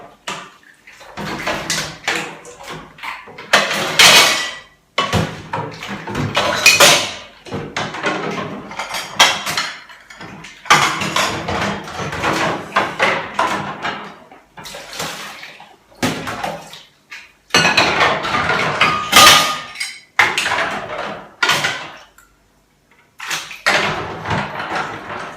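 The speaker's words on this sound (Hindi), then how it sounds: "मैं भी पहले इन बर्तनों को धो देता हूं इसके अंदर," Dishes, pots and utensils are washed, with water running in bursts as they clank and clatter against each other. The washing is loud and close, broken by short pauses.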